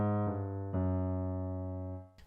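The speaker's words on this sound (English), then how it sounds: "This is where the notes in the bass descend, and in this case they descend chromatically." Sustained low synth bass tones descending chromatically in small steps, each note held before sliding to the next, ending with a brief click (Library of Ruina).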